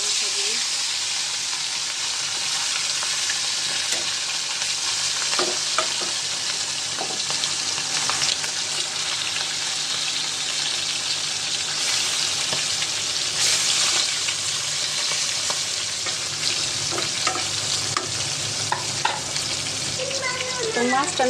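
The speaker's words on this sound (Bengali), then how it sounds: "এই তো মাছ ভাজাটা বসাই দিই" Hilsa fish pieces fry in a pan with a steady, dense sizzle and crackle that runs throughout, with occasional clinks and stirring scrapes close by; no one speaks.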